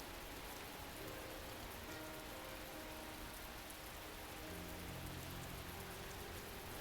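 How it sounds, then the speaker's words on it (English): Heavy rain hammers a bridge overhead in a dense, even roar of drops, faint and continuous without a break and with no voices. "The rain slaps heavily on the bridge above."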